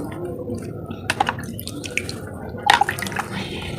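Water trickles and splashes onto seeds in a soil-filled rice sack planter, a steady close wash of pouring with a few brighter drips and spatters, no talk.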